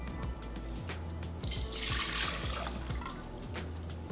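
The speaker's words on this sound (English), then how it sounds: "I'm gonna go ahead and pour it into my mixing bowl that I'm gonna be using." Wine ice cream base pours from a container into a mixing bowl with a steady liquid splash and gurgle, close and continuous, with no talking.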